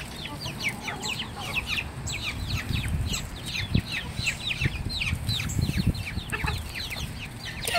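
Several chickens cluck and chirp busily close by, overlapping calls in a continuous flurry with some scuffling underneath.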